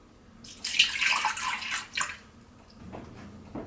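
Soy milk is poured into a container for a frozen banana smoothie, a close liquid splash and trickle for about a second and a half, then fading drips.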